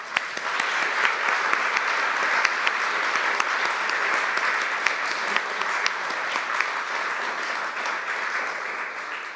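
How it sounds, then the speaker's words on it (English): An audience applauds steadily and warmly after a physics inaugural lecture, a continuous dense clapping that fills the hall for the whole stretch. "let's just applaud them once more, I think."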